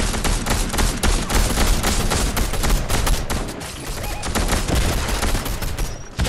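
Dense, sustained Fortnite gunfire crackles without pause, rapid overlapping shots and bursts filling the whole stretch at close, loud range with scarcely any let-up.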